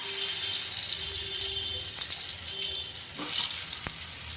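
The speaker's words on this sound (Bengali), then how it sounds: "আলুটা ভেজে নেব। দিয়ে দিলাম আলু।" Potato pieces fry in hot oil in a pot for vegetable khichuri, giving a steady, close, hissing sizzle throughout with a few faint clicks and no talking.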